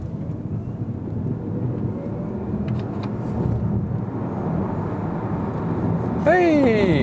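A Cupra Born 231 hp e-Boost rear-wheel-drive electric hatchback accelerating hard, a steady loud cabin roar of road and wind noise building throughout, with a rising electronic whine near the end.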